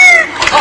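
A pet bird imitates a rooster's crow in a single loud, brief, strained call that is close and up front, heard alone without talk.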